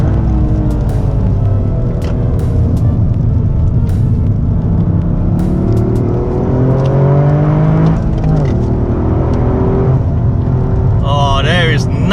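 A Toyota GR Yaris races hard around Sepang circuit, its engine droning and rising through the revs from inside the car, with gear changes shifting the pitch and a steady rumble throughout, chasing a GR Supra.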